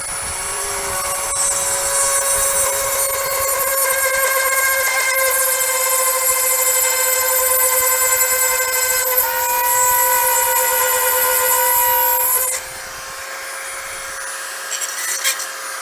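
Drilling holes through a glass wine bottle, a steady high-pitched grinding whine with ringing tones that runs continuously for about twelve seconds before abruptly stopping, close and loud with no talking.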